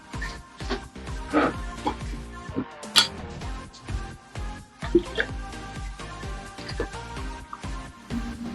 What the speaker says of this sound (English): Next, I'll pour my concentrates in.